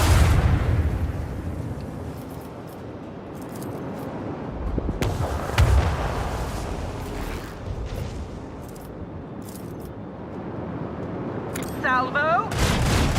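Ship weapons in the Warhammer 40K game Rogue Trader firing a volley, heavy booming blasts and rumbling explosions rolling on at close range, with a voice speaking over them.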